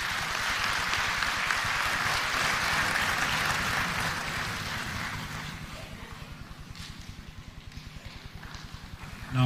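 Audience applause following a president's speech at a formal public event, a broad sustained clatter of many hands, loud at first and then easing slightly toward the end.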